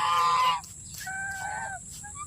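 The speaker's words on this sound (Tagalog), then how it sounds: "Hingin ng mga gansa ako. Gutom na." Geese honking nearby, a loud nasal call followed by a few shorter, quieter honks.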